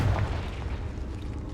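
A Confringo blasting spell goes off in Hogwarts Legacy, a single loud, booming burst at the start that quickly fades into a low rumbling tail.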